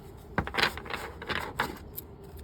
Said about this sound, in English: let's go ahead and shuffle and we'll see what ones to come out